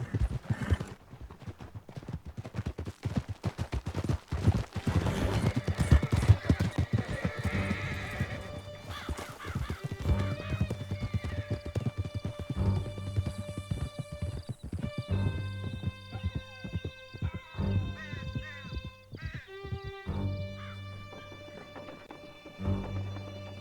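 Several horses gallop hard in Red Dead Redemption 2, with steady clip-clop hoofbeats and loud whinnies, set against a game music bed that turns to sustained tones partway through.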